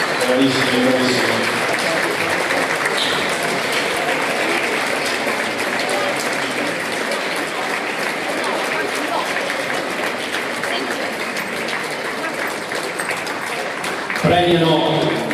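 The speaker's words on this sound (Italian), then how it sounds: "Un applauso, bravi ragazzi" Applause at a volleyball award ceremony after a Pallavolo Padova vs Volley Treviso match, steady dense clapping from a crowd lasting throughout, with an announcer's voice over it at the start and a louder burst near the end.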